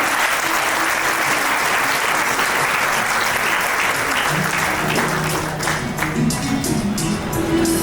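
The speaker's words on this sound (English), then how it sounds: "Can we have a big round of applause once again for our teachers who have done their achievements?" Loud, sustained applause from a school audience honouring teachers at an awards event, dense clapping throughout with a few distinct claps standing out near the end.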